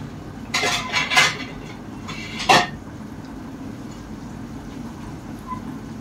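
A lid is set onto a cooking pot of pinakbet with a few sharp metallic clinks and scrapes close by, followed by the low steady hiss of the stove.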